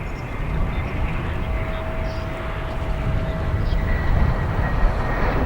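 American Airlines Boeing 787 taxiing at O'Hare airport, a steady low jet engine rumble with a faint whine, continuous and moderately distant.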